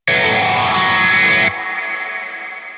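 Blossom reverb effect in Genome 2.0 amp-capture software on an electric guitar: a loud, dense distorted chord rings out, then cuts abruptly to a lingering reverb tail that slowly fades, with no voices.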